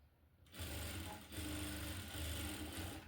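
A sewing machine stitches a petticoat, starting after a brief quiet moment and then running steadily at a fast, even pace until the end.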